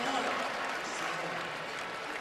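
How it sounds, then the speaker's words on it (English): Arena crowd in Atlanta at a Kentucky college basketball game applauds, a broad wash of clapping and crowd noise, heard at a distance, with a commentator's voice over it. "a big round of applause from the folks here in Atlanta"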